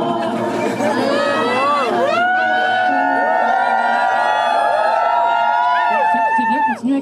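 A crowd at a live performance event shouts, whoops and cheers loudly and continuously, with many overlapping voices forming a dense, close roar that swells briefly and then holds steady.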